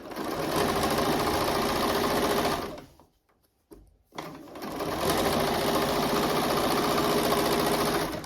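Sewing machine stitching down both sides of an outer fabric panel: a steady, close mechanical whir that runs for a few seconds, stops briefly, then starts again and runs to the end.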